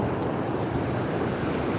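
Ocean waves wash onto a Florida beach in a steady, broad rushing roar, loud and close, with wind buffeting the microphone throughout.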